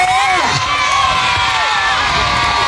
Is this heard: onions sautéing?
no